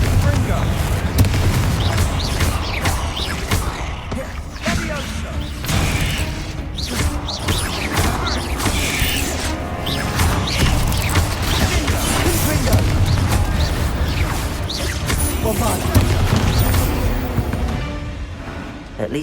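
Bombarda and Confringo spell explosions in the Hogwarts Legacy game, with dense booming blasts and crashing debris in a dark tomb, loud and continuous, mixed with game voices speaking.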